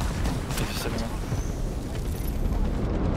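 A grenade blast in the video game Apex Legends sounds as a dense, rumbling explosion under loud, excited talk, with gunfire-like cracks mixed in.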